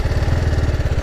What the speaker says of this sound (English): It has kind of throaty exhaust note, which you don't commonly hear it on other bikes.